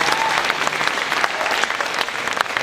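Audience applause fills a high school jazz ensemble concert after a tenor saxophone solo, a dense, steady crowd clapping that holds at full strength throughout with no pause.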